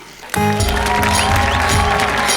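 Loud applause bursts in suddenly from a studio audience at an award moment on a comedy show, full and steady with music underneath.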